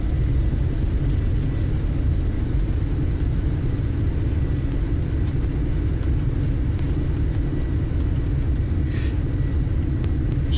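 An airliner rolls out after landing with reverse thrust in Microsoft Flight Simulator, a steady loud engine roar and low rumble that holds throughout with faint whirring on top, no talking over it.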